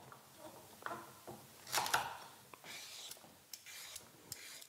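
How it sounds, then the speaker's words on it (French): Knife chopping vegetables such as carrots, potatoes, onions, leeks and celery on a board for a popular Irish dish, producing faint, irregular cutting taps and scraping strokes, quiet and close, with no speech. "On va commencer par préparer les carottes, les pommes de terre, les oignons, les poireaux et les céleris."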